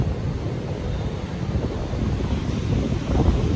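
Strong wind buffets the microphone on Nha Trang beach after flooding rains, a loud continuous roar with surf rumbling underneath and no voices.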